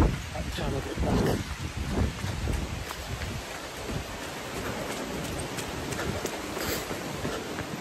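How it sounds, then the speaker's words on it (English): Strong wind buffets the microphone outdoors during a long-distance run, a loud, continuous rushing roar with heavier low gusts in the first couple of seconds. "That wind was quite strong"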